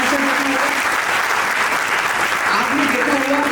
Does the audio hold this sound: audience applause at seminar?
yes